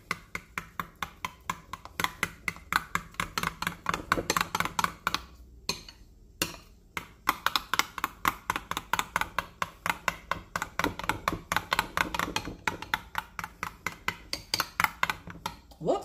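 A spoon scrapes and clacks rapidly against a bowl while a low-calorie dip is mixed, a brisk, regular run of close clinks with a brief pause midway and no talking.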